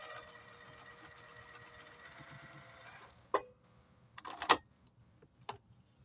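A sewing machine stitching half-square triangles for a quilt top in a camper: a steady whirring motor run for about three seconds, then stopping, followed by a few sharp clicks and handling clatters.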